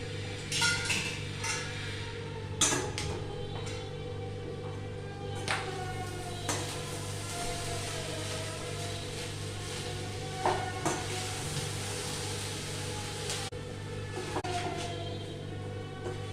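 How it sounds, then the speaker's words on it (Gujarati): Onion, potato and rice for shahi pulao being stirred and mixed in a pan, soft scraping and sizzling over a steady hum, punctuated by several sharp clinks of a spoon against metal. "અને આપણે એકવાર એને મિક્સ કરી દઈએ."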